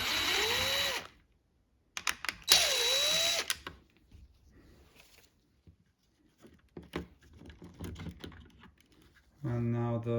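A cordless driver backs screws out of a Toyota Sienna window switch casing, with two short whirring bursts that pitch up and down. Quieter clicks and plastic handling follow, then a final brief buzz of the tool.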